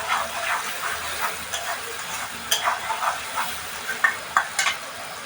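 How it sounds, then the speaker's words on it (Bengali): Food frying in a pan with salt and turmeric just added, being stirred: a soft steady sizzle under repeated scraping and clinking strokes of a spoon, close by. "আবার নাড়তে হবে এটাকে ভালো করে"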